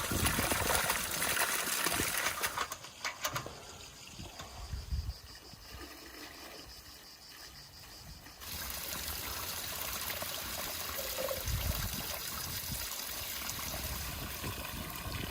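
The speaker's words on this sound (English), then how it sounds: "Now it's time to wash the berries. A gentle rinse, no rushing, just enough to lift off the dust without bruising them." Blackberries rinsed under running water in a village kitchen, a steady close splashing stream that softens briefly midway before returning to a full continuous pour, with no talk.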